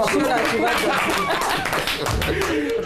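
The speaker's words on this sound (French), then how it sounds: "On va applaudir encore, s'il vous plaît, cette équipe-là." A studio audience at a French evening game show applauds the winning team, with brisk clapping mixed with chuckles, scattered voices and laughter throughout.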